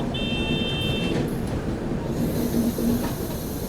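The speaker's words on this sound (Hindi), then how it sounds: "सामने से डिपार्चर लेकर के आ रही है आप लोगों की कामरूप एक्सप्रेस" The Kamrup Express rolls past near NJP with a loud, continuous rumble of wheels on track, a high tonal whine at first and a thin metallic squeal coming in toward the end.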